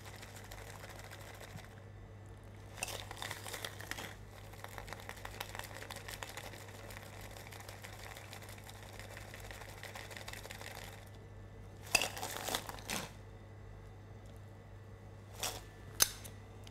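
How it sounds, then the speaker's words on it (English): Ice rattles in a cocktail shaker during a dry shake, coming as faint rhythmic bursts of clatter with quiet gaps between them over a low steady hum. "that would be the dry shake"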